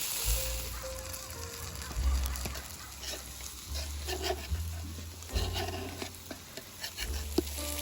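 Ginger garlic paste and tomatoes frying in a pan while cooking outdoors in a village, a steady soft sizzle with occasional stirring scrapes over a low background rumble.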